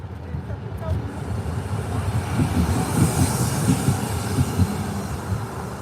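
Electric tram rolling along Piotrkowska street in Łódź during a night walk, a steady rumble and rattle of wheels on rails with faint squeal, continuous and fairly close, under street ambience.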